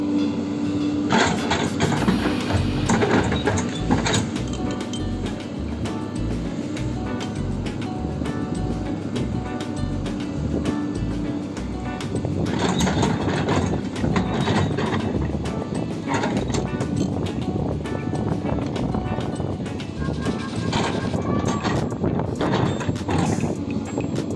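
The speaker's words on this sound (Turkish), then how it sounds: "Kepçeyle dere sürümü yapılıyor şimdi." An excavator deep-rips a field full of tree roots to about a metre or more, giving a continuous loud engine drone with clanking, rhythmic mechanical knocks outdoors and no talk.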